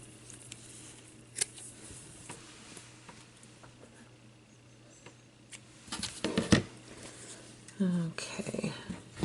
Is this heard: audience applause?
no